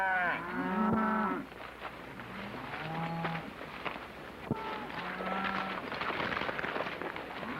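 Cattle moo repeatedly, several long, low calls overlapping, with hoof movement and general herd noise in the background, from a herd being rounded up by riders on horseback.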